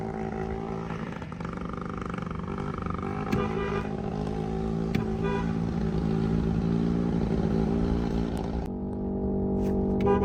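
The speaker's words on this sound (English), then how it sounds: "Yo, we had to do the burnout." Car doing a burnout after an engine swap, a loud sustained engine roar held at high revs for the full stretch with tire squeal texture, close and unbroken, no talk.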